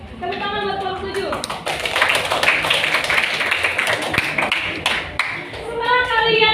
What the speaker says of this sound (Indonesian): Tepuk tangan buat kelompok 7